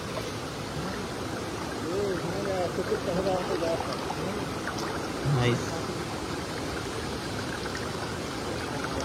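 A forest stream and waterfall in the Nallamala hills rushes steadily and continuously at close range, with people talking over the flowing water.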